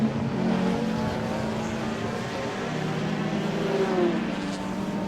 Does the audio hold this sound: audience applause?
no